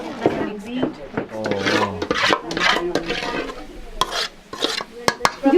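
A dish being stirred with apricot walnut paste pickle in Gilgit-Baltistan cooking: close, repeated scraping and rubbing strokes against the pot in an uneven rhythm, with faint sizzling and occasional voices.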